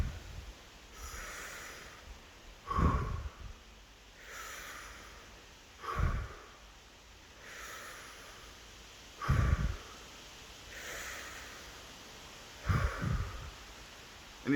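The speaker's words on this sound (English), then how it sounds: "Now do it with me, please. Breathe in on 3." Slow, deep breaths in and out during a breathing exercise, each long soft inhale and exhale repeating steadily, close and fairly quiet, with no talking.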